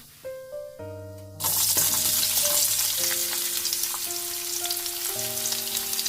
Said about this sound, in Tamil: நான் கட் பண்ணி வச்சுருக்கிற ஆனியனை இதில் நல்லா போட்டு ஃப்ரை பண்ணுறேன்